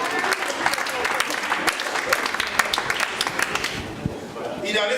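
A church congregation applauding and cheering for the Lord, steady dense clapping from many hands throughout, close and lively, with voices mixed in.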